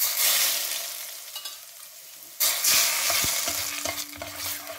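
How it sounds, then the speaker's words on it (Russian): Hot oil poured over a prepared chili paste sets off a loud burst of sizzling that fades, then surges again sharply midway and keeps crackling with some scraping clinks. "Масло мое раскалилось, и я начинаю поливать им мою приготовленную массу."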